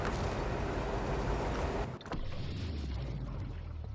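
The Kirovets K-7M truck engine starts in the video game SnowRunner: a steady rushing drone breaks off briefly, then a low engine rumble settles in and continues at moderate volume.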